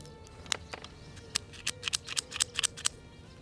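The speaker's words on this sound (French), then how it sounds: "Je vais couper vraiment une partie ridicule de la coiffe" Small scissors snip the cap of a slightly humid SXM Cigars Private Label lancero cigar, a series of sharp, close, crisp clicks in quick irregular succession, about a dozen in all.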